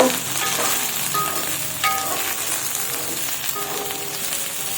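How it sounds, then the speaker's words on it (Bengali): Chopped ridge gourd hits a hot frying pan alongside fried potatoes, giving a dense, continuous sizzle with crackling spatters, close and fairly loud without a break. "তো এখন দিয়ে দেব কেটে রাখা ঝিঙ্গাগুলো"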